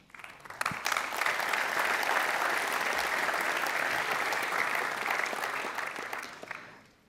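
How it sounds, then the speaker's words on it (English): Sustained audience applause at a secondary school awards celebration, a dense steady wash of clapping lasting several seconds before tapering off at the end, with no speech over it. "Please hold your applause to the end."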